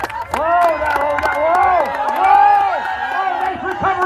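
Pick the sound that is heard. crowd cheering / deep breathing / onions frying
crowd cheering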